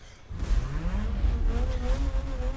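A Mazda Furai's rotary engine in the video game Need for Speed: Most Wanted, a smooth, buzzing rotary whine, revving up steadily and holding a high pitch, fairly close and continuous.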